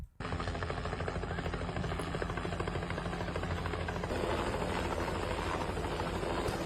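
Helicopter flying overhead in Sukabumi, West Java, its dense rotor and engine roar loud and steady throughout with no voices.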